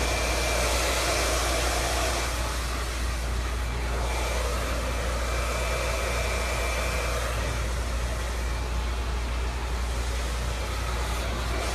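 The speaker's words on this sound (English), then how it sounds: "When you're blow drying your clients, it's really important for you to share the product." A hair dryer blows hair dry in a salon during a bob haircut, a constant loud whooshing drone that holds steady throughout with no talking.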